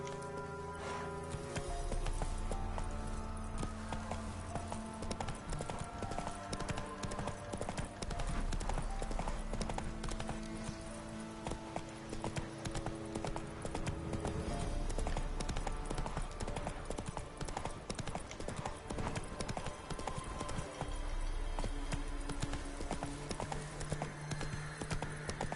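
Hooves of Roach, the horse in The Witcher 3: Wild Hunt, beat in a steady galloping clip-clop under game music and ambience, moderately loud and continuous throughout.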